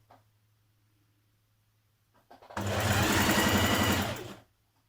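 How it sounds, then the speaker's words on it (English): Sewing machine running a basting stitch around a folded elastic casing for a skirt, a steady close whirring run of about two seconds after a brief start, then stopping. "you're going to machine baste all the way around, bringing those edges together"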